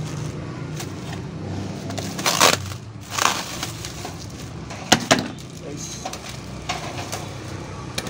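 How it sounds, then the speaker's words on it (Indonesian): Plastic packaging crinkles and tears as a Ruhai portable grill set is unwrapped, with several sharp crackling bursts and rustles at close range against a quiet room. "Dibuka plastiknya semuanya"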